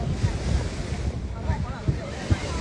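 Big waves slap against a boat at sea while heavy wind buffets the microphone, a continuous rough roar with a few heavier thumps of water.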